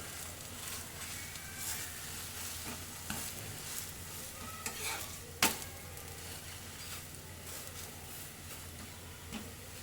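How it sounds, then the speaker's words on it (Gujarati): Gujarati puda pancake frying in a little oil on a pan, a soft continuous sizzle with faint scraping and stirring sounds and one sharp click partway through. "ફરી થોડું તેલ ઉમેરી લઈશું, બરાબર શેકી લઈએ એને"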